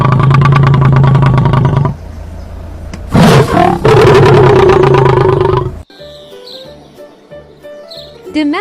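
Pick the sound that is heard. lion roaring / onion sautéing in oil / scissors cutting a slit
lion roaring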